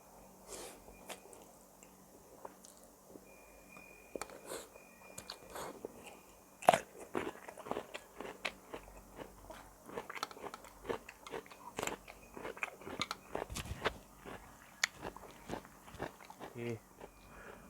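Someone bites and chews dry Mama instant noodles with thick strands, giving repeated close crunches and crackles at an uneven pace, with louder bites standing out among softer chewing.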